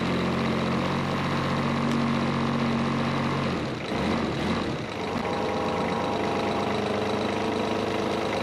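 The diesel engine of a home-made motor roller runs steadily at a loud, close idle, with a brief dip in its drone midway before settling back into an even rumble.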